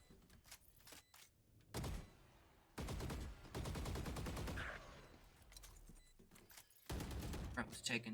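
Bursts of rapid gunfire from a Valorant match ring out in several loud clusters, separated by quieter gaps. A commentator's voice can be heard between the volleys.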